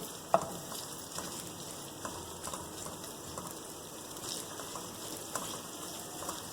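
Okra (bhindi) frying in a pan, a steady moderate sizzle with light crackling and a few sharper pops, continuous and close with no voices.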